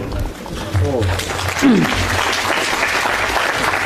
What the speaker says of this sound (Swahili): Tumuongezee makofi Engineer Timothy for such a touching tribute